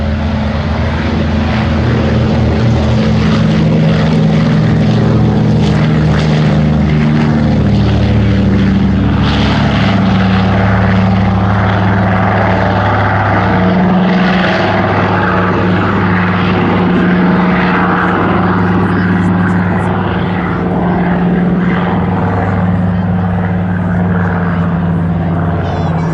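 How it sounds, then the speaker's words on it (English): A Consolidated PBY-5A Catalina flies past at a summer air show, its twin piston engines and propellers droning loudly and steadily with a pulsing throb, close and continuous. "Consolidated PBY 5A"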